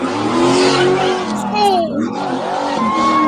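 Car skidding and crashing in a played clip, tyres squealing in a long sliding sweep over continuous engine noise, with excited talk from people watching throughout.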